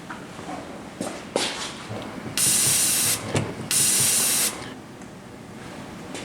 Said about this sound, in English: Going to spray it off with brake clean.